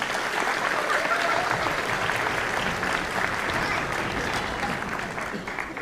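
Parents in an audience at an elementary school spring concert applaud, a dense, steady roar of clapping hands that fills the space from start to finish, with faint murmuring underneath.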